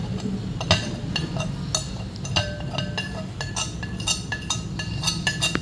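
Spices tipped into a bowl for a fish masala, heard as a run of light clinks and taps of metal and glass with soft scraping, moderately close and steady, with no voices.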